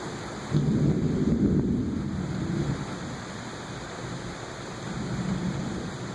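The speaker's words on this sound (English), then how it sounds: "It's raining to calm down from global warming." Rain falls outdoors as a steady broadband hiss, with a louder, rumbling swell near the start that settles into an even wash, and no one speaking.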